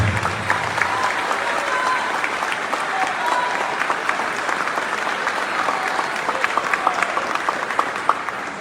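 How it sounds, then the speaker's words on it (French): Conference audience applauding themselves, a dense, steady wash of clapping from a large crowd lasting the whole stretch, even and sustained with no voices rising above it. "Applaudissez-vous encore une fois, s'il vous plaît."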